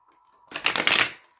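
A single quick riffle of tarot cards being shuffled, a brief crisp flutter after a faint tone, close and alone.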